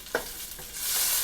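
Food being stirred in an electric skillet, a scrape of the utensil followed by a sizzle that swells louder and steadier toward the end.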